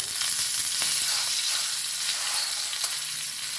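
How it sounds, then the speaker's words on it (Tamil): Chana dal and curry leaves frying in hot oil, a steady, close, bright sizzle with faint crackles and no talking. "நல்லா பொன்னிறமாக பொரியட்டும் கடலைப்பருப்பு. இப்போ கொஞ்சம் கருவேப்பிலை"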